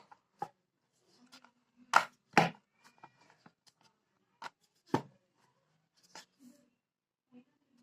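A rolling pin presses and slides maida dough into a thin chapati on a board: sparse, irregular taps and knocks with brief scraping strokes, close and quiet, separated by stretches of near silence.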